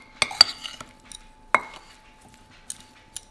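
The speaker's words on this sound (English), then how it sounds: "Just give that a good stir so it's all nicely" Blueberry pie filling with spices being stirred in a bowl, giving a few sharp spoon-on-bowl clinks and scrapes, close and fairly quiet, with no talking.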